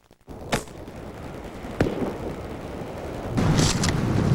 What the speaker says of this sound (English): In the event that we had a bear, we use a 12 gauge, what we call a popper round.